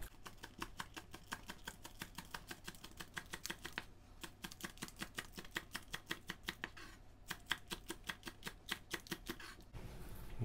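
A knife chops the green tops of a small spring onion on a board for homemade tzatziki, a steady run of quick, crisp, evenly spaced taps close up, with no talking.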